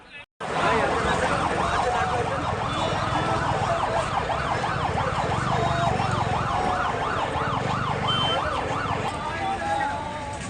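Ambulance siren wailing continuously through a street protest in Barishal, a steady rising-and-falling tone that stays loud throughout over crowd noise and engine rumble, with voices around.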